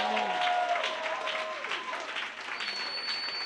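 A church congregation cheering and applauding for the Lord, sustained dense clapping mixed with shouts and voices, fairly close and loud throughout.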